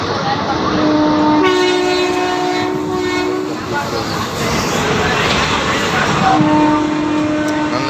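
A passenger train on a journey from Tirunelveli to Chennai rolls steadily with a loud, constant rumble and rattle, while a long horn sounds near the start and again near the end; a voice talks over the running noise.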